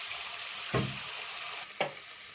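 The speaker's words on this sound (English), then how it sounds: "mix all your veggies into that gravy. And let them cook for a few minutes into this gravy" Mixed vegetables simmer in gravy for a vegetable pulao, giving a steady close sizzle broken by two brief scraping stirs of a spoon in the pot, with no voices.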